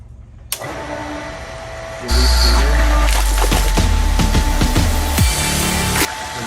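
A pool pump motor switches on after a Pentair Clean and Clear filter install: a click, then a loud, low, steady motor hum with water rushing and some clattering knocks layered on top.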